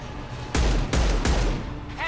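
Gunfire from the video game Mass Effect 2. Several loud, sharp, close shots crack in quick succession over about a second and a half, and voices can be heard faintly underneath.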